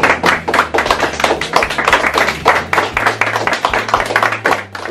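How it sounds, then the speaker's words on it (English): Applause for the British Formula 3 champion and Sunoco Whelen Challenge winner, a brisk, dense patter of clapping hands that fills the whole stretch at steady loudness, close and lively, with a low hum running beneath. "I think he deserves a big round of applause."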